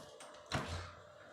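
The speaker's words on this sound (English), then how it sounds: "Let me open the door for my dogs." A house door is opened to let dogs through, giving a single close, solid thunk with a brief rattle in an otherwise quiet room.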